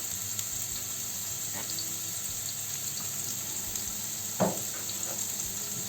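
Steady low sizzle of onions frying in hot olive oil, with a few soft clinks and stirring scrapes near the end.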